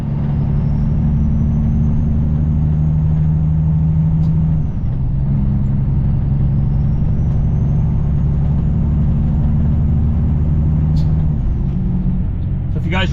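A semi truck's engine rumbles steadily at a close, loud level for the whole stretch, with one brief dip in the drone partway through and a faint whine above it.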